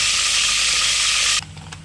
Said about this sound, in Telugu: తర్వాత తిరగమాత నూనె పోసుకొని దాంట్లో తాలింపు గింజలు వేయాలి